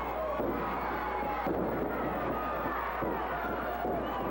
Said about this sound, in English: Crowd solid behind him.